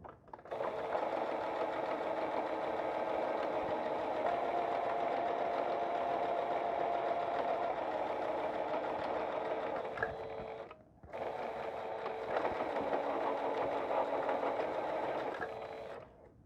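Sewing machine stitching a side seam in fabric scraps, a steady close mechanical whirring run that pauses briefly around the middle and then resumes for a second long run.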